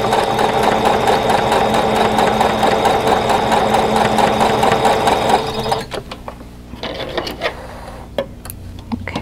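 A sewing machine runs steadily while stitching quilt block pieces, a loud, continuous motor whir for about five seconds, then stops, leaving quieter handling clicks and rustles of fabric.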